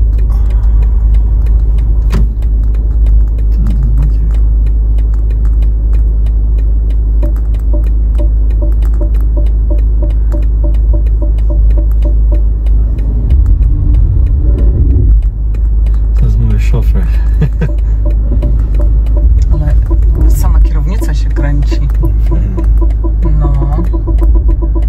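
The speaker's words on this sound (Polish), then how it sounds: "O, zaparkuje sam? Zobaczcie, parkuje." A car parks itself in a tight spot in Sopot in the evening. A steady, loud low engine rumble runs close throughout, with people talking over it.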